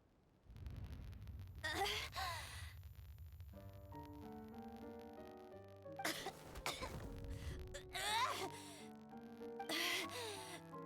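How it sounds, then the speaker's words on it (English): A robot character in a video game pants and coughs in several harsh bursts of breathy gasps, close and fairly loud, over soft musical tones. "Why is she panting and coughing?"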